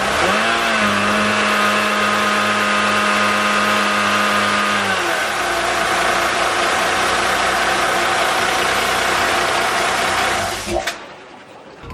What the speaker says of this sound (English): I can just give it a couple of revs just to make sure there's no air